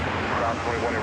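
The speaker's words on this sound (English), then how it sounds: "An Airbus A321 American Flight" An American Airlines Airbus A321 jet roars at an airport, a loud, broad, steady engine rush heard close by in one brief, unbroken stretch.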